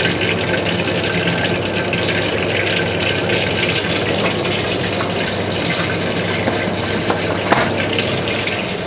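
Water poured onto sticky rice in a Thai home kitchen, a steady close rushing gush that runs unbroken for several seconds and is loud with no voices.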